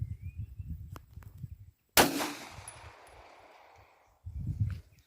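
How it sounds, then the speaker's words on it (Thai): A single loud, close gunshot from a 9mm pistol firing plain lead-head rounds, with a sharp crack and a ringing decay, between stretches of quieter background noise. "ลองด้วย ลูกขนาดเก้า หัวตะกั่วนะครับ หัวธรรมดาครับ เดี๋ยวผมลองยิงดูก่อนครับ"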